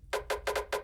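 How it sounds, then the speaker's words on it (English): Secondary snare drum sample in a beginner drum pattern, struck four times in an even rhythm, each hit a bright, crisp burst with a short decay, close and alone with no other sounds. "the secondary snare"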